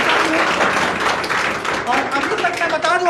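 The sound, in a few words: audience applause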